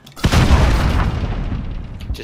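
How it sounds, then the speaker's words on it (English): A flashbang grenade detonates in Call of Duty Modern Warfare as a single loud, close boom that rings out and slowly decays over about two seconds. "Just freaking so many flashbangs."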